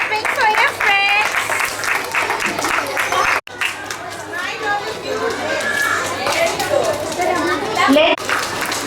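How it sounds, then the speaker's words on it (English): A school assembly crowd of young children clapping for classmates on stage, a steady loud patter of applause mixed with excited kids' voices and chatter throughout, with a brief dropout midway. "Keep clapping for your friends."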